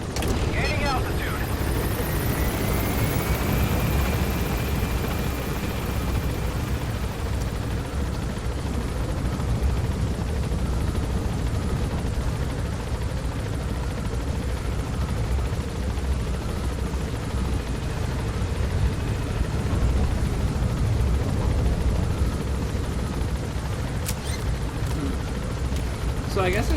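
A helicopter climbing in the video game Metal Gear Solid V, its loud, steady rotor and engine drone filling the whole stretch without letup.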